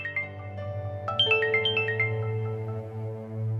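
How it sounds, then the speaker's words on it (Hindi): A mobile phone ringtone plays a melodic electronic tune of rising and falling notes over a steady low tone, moderately loud and continuous with no voices. "किसका फोन है? मेरे हस्बैंड का फोन है।"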